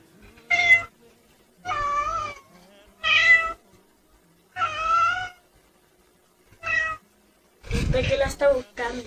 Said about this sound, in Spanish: Unos gatitos.